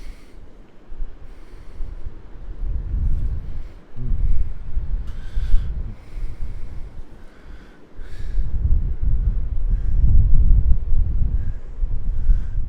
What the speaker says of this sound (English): It's windy and cool here at the ocean at sunrise.